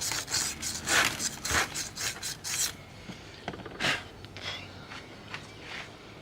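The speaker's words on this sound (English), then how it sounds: "trying to get rid of all the rust on the taper" Rust being rubbed off the crankshaft taper of a go-kart engine, with a run of quick, close, rasping strokes in the first half, then slower, more scattered scrubbing passes.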